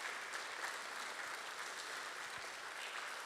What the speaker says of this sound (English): let's give them an applause for their work.